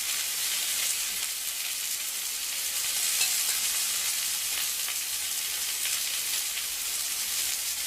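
Kangaroo fillets sear in hot olive oil in a pan, giving a loud, continuous hissing sizzle that stays steady and close, with no talking over it.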